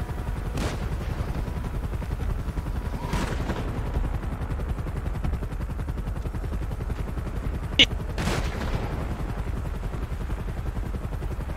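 Scattered gunshots crack through a GTA roleplay shootout, a few sharp bursts standing out over a steady low rumble, with no voices.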